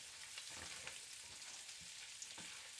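Sausage and bacon frying in a pan while being stirred, a faint, steady sizzle with soft scraping and a few quiet utensil taps.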